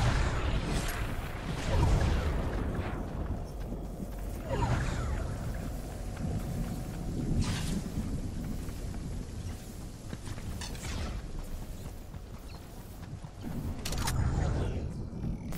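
Storm in the video game Fortnite, a continuous roaring wash of noise with repeated rumbling surges and sharp bursts every few seconds, loud and sustained with a voice speaking faintly underneath.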